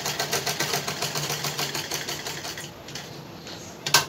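A sewing machine stitches a curved neckline on a printed cotton garment, producing a rapid, even mechanical clatter close by that slows and stops partway through, followed by a sharp click.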